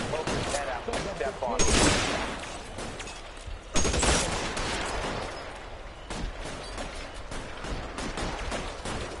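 Gunfire in L.A. Noire, several loud booming shots in an uneven series with clattering between them, amid a noisy firefight.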